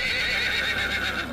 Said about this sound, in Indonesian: Kuda meringkik keras